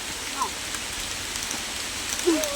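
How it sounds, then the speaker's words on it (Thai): Steady rain falls across a rural village setting, a continuous soft hiss with scattered drops, while people talk briefly over it. "ฝนตกว่ะ"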